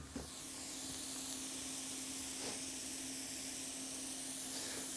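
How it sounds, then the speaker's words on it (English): A burger patty sizzles steadily on a hot surface after being smashed down with a spatula, a continuous loud frying hiss with a brief scrape at the start. "I like to go right down on top of that, and you'll hear the beautiful noise"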